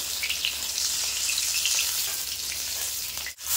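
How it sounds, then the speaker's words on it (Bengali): Paneer pieces sizzle in hot oil with a loud, dense, continuous crackle close by, briefly cut off near the end. "তেলে বাকি যে পনিরটা আছে এটাও একইভাবে ভেজে নেবো"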